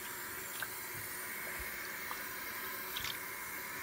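Water runs steadily from a tap while a pet is being bathed, a constant soft hiss with a few faint drips and splashes, fairly quiet and with no one talking.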